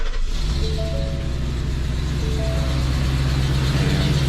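A 2020 Ford F450 pickup running on CNG idles with a steady low engine rumble and faint tonal whine, continuous and close, with no talking.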